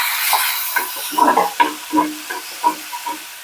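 Tomatoes tipped into onions frying soft in a pan for semiya upma, giving a close, steady sizzle broken by several sharp stirring scrapes and clatters over about three seconds, with no voices.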